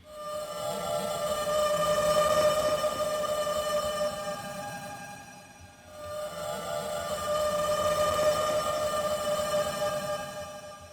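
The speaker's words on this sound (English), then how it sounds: "there's these things that I call like the orca sounds, because they sound like orca whales like communicating with each other" Resampled, processed vocal layered into a drawn-out, siren-like swell with high wavering tones resembling orca whales calling to each other, in two long rising and fading passes over a dense buzzing texture, without talk.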